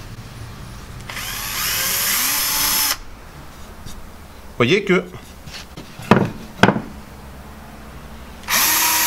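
Electric drill fitted with a small bit boring into repaired MDF: two bursts of high-pitched whirring, one long at the start and another at the end, with brief revving spurts between and someone speaking French close by.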